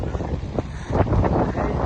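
Steady wind at the seashore buffets the microphone outdoors, a rough, rumbling roar that swells stronger in the second half.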